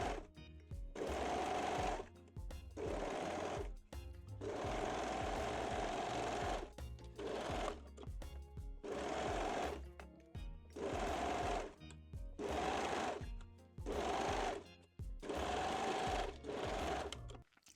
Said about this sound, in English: And sew both back seams. You can use zigzag or your serger.